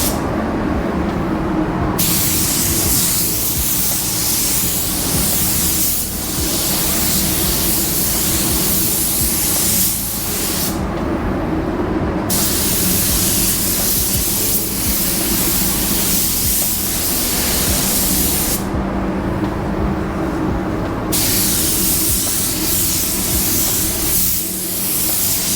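Spray gun laying a single coat onto sanded areas of a surface, a continuous hissing spray in long passes broken by brief pauses, close and loud with no talking.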